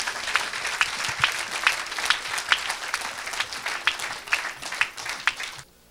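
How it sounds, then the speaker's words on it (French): Audience applauding in a church worship gathering, a steady crowd clapping with rhythmic accented beats, fairly close and continuous before stopping abruptly. "Clap for the Lord."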